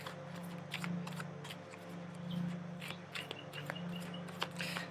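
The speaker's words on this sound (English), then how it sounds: "I'm just feverishly shuffling." Tarot cards being shuffled quickly by hand, a series of short papery riffles and flicks in irregular bursts, close and fairly quiet, over a low steady hum.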